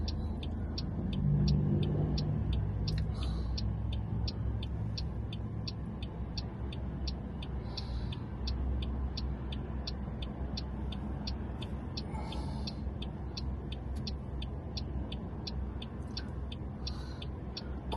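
A car drives through busy Blackpool streets near South Park Drive, its steady engine and road rumble continuous throughout, with a regular ticking, likely an indicator, clicking along above the noise.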